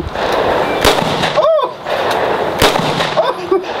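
A brand new AR-15 rifle firing outdoors, several sharp loud cracks spaced irregularly over a few seconds, with people talking around the shots.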